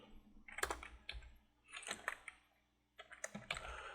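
Someone types a command at the C prompt on a computer keyboard, producing close, uneven bursts of key clicks separated by brief pauses, moderately loud with no talking.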